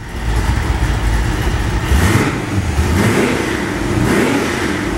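An engine revs through mufflers, a loud, close, throaty drone that rises and falls in repeated throttle swells over a few seconds, with no talk.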